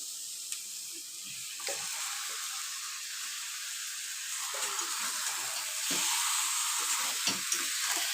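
Washed chicken pieces going into fried spice masala for a homemade chicken curry, giving a steady broad sizzle that swells a little louder near the end, with a few faint clinks and stirring sounds.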